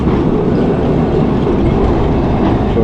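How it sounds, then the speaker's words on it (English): A heritage tram on a coastal tour passes along Lord Street in Fleetwood, a loud, close, steady rumble of wheels on rails lasting throughout with no talking. "We've got a heritage tram just coming down here in its coastal tours."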